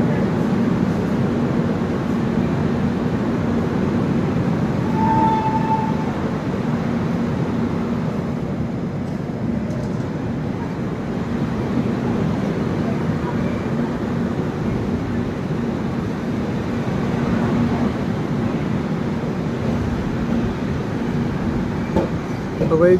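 The Chhattisgarh Express passenger train runs along the track after leaving Raja Ki Mandi, heard from on board as a continuous low rumble and rattle that stays steady for the whole stretch.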